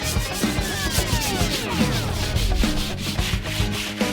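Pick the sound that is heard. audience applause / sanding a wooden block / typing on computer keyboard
sanding a wooden block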